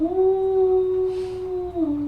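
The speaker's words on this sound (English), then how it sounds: "you hear an unearthly howl" Unearthly howl in a tabletop role-playing game, one long sustained wavering cry that holds steady for about two seconds before dropping away, loud and close with no talk over it.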